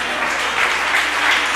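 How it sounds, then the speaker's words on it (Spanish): A congregation at a Spanish-language church service applauds the Lord, a dense, continuous wash of many hands clapping at once, loud and close for a brief moment with no voices over it. "Dele un aplauso al Señor"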